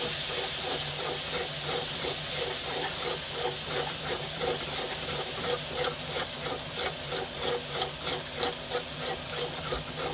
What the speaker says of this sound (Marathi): एक चमचा कांदा मसाला आता मसाला चांगला परतून घेऊ आपण